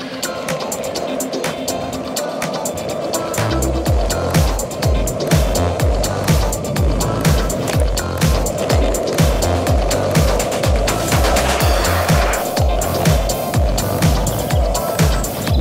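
An electric skateboard runs downhill with continuous wheel roar and a rhythmic clatter over the road surface, loud and close. The steady rolling noise stays strong through most of the run after a quieter start.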